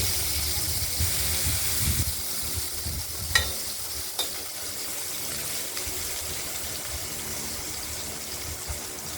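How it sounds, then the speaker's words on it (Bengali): Potatoes sizzle steadily in hot oil in a pan with dried red chillies, bay leaf, white and black cumin, with a few stirring scrapes and clinks. The sizzle stays close and continuous throughout. "এই আলুগুলোকে আমরা একটু ভাজা ভাজা করে নেব"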